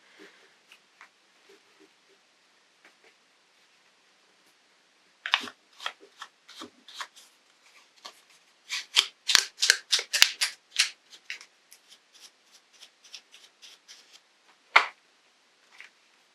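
Paper tearing in short crackling rips, a leftover scrap torn by hand during envelope and vellum crafting; quiet at first, then a dense burst of tearing sounds through the middle and one sharp final rip near the end.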